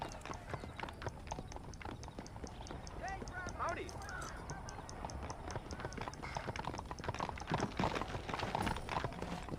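Horse hooves clip-clop in a quick, steady rhythm in the western game Red Dead Redemption, close and continuous, with voices talking over the hoofbeats.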